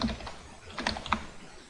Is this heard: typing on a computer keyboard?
yes